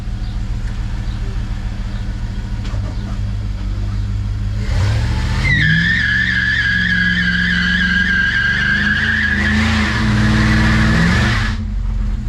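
A truck with a working electric fuel pump revs and skids, its tires squealing in a long, loud, wavering screech over a steady engine roar, close and alone.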